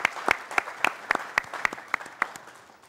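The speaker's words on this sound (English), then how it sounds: "Yes, round of applause." Applause at an oratorical contest comes as sharp, evenly spaced claps in a quick steady rhythm, close and clear, fading toward the end.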